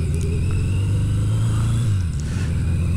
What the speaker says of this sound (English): I'm out for a little ride on the old .32-year-old Yamaha XJ650 Maxim.